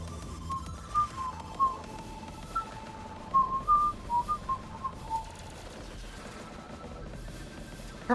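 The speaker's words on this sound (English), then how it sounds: "Probably shouldn't whistle into the microphone." A person whistles short melodic phrases close into a microphone while playing Advance Wars 1+2: Re-Boot Camp, with soft game background sound between the notes.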